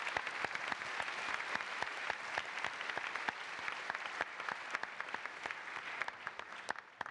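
Conference audience applause at a closing session, a steady, moderately loud patter of many hands clapping with scattered sharper individual claps, heard alone.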